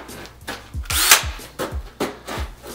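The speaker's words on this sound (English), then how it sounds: "So we're gonna drill a hole appropriately sized for a quarter pipe fitting." A handheld power drill bores a hole sized for a quarter-inch pipe fitting in a homemade submarine actuator, with short repeated whirring bursts that spin up and stop, one longer loud run in the middle, and several quick triggers afterward.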